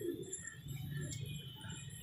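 Pigeons coo softly and continuously, a low murmuring burble with faint outdoor background.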